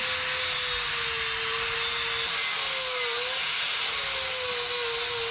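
A flap disc grinder works over the front suspension of a 1977 Datsun 620 pickup, giving a loud, steady, continuous abrasive whine with a slight wavering pitch and no pauses.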